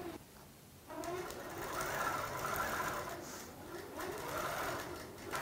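A sewing machine runs a single stitch while quilting a Fourth of July quilt, a steady rapid mechanical whirring that starts abruptly and hums on evenly, close and moderately loud.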